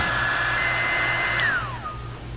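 A heat gun blows steadily over wiring harness insulation on a 1931 Ford Model A, a close, continuous airy roar with a whine whose pitch drops as the gun shifts or powers down near the end.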